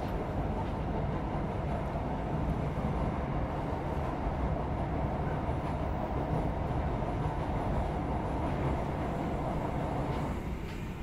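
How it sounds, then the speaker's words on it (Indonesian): A passenger train rumbles steadily across the Brantas River bridge, a continuous heavy rolling roar with faint rhythmic clatter, loud and close throughout. "keretanya akan melintas di jembatan Sungai Brantas"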